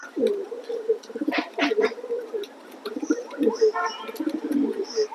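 Racing pigeons cooing up close in a loft, soft throaty coos repeating in uneven bursts with a few sharper calls, someone speaking among them.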